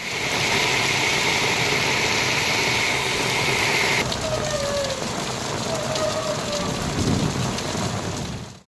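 Steady rain pours down over a rural area in Tirukkovilur, Kallakurichi district, a dense, unbroken hiss of falling drops, loud and close, with no talk and a faint tonal hum in the background.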